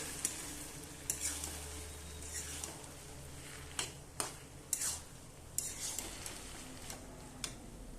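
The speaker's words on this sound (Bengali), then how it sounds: "এবার আমি তরকাটা দিয়ে দেবো।" Tempering for green lentil dal sizzles quietly in a pan, a soft continuous fry with occasional sharp clinks of a utensil against the metal.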